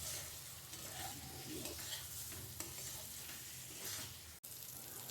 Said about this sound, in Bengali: আমি ভেজে রাখা ডিমগুলো মশলার সঙ্গে দিয়ে আরও কিছুক্ষণ কষে নেব।